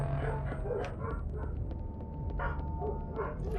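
Dogs barking in the video game Hybrid Heaven, a run of short barks and yips repeating over a steady game soundtrack, fairly close and continuous throughout.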